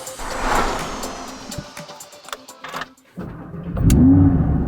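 Audi R8 V10 Performance with a naturally aspirated 610-horsepower V10, heard as a starter whir and cranking that catch into a loud, deep rising flare of revs close by, then settling.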